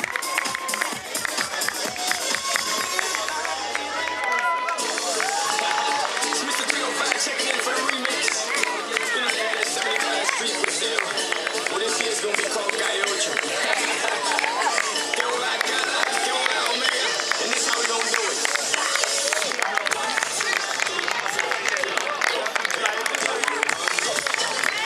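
A crowd at a 2018 half-marathon in Tournefeuille claps and cheers loudly and continuously for the finishers, with dense applause and chatter filling the whole stretch.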